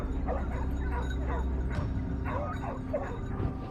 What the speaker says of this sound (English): The hounds were unleashed, their frantic bark signaling the start of the hunt.